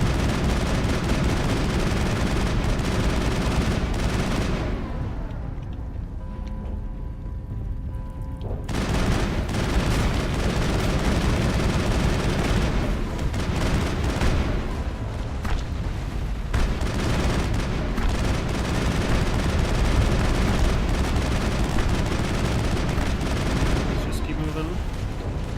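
Sustained gunfire and explosions from a Mass Effect firefight roar continuously, with a brief quieter lull early on before the dense shooting resumes.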